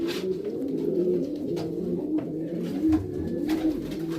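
Carrier pigeons coo in repeated low, rolling calls, close by and steady, with soft shuffling between the phrases.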